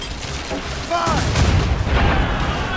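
Ship cannons in the video game Assassin's Creed Rogue boom in a heavy broadside during a naval battle. A loud, sustained rumbling roar swells midway, with faint voices mixed in.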